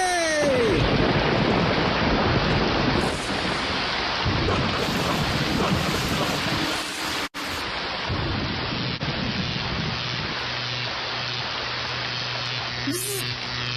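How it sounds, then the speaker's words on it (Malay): Heavy rain pours steadily in a dense, loud hiss, with a brief break midway and faint tones near the end. "Hujan dah turun."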